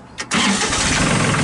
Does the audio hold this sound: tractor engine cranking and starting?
yes